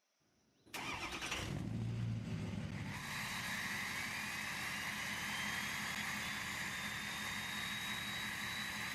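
A Tesla Cybertruck powers up after a brief near-silence, a sudden loud onset of motor and fan noise that settles into a steady high whine and hum, heard close with no talking.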